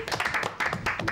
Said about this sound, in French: moi j'applaudis, bravo.